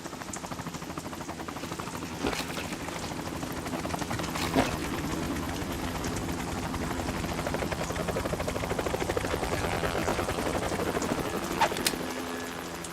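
A video game helicopter's rotor chops in a fast, steady rhythm throughout, loud and constant, with a few sharp clanks standing out over the drone.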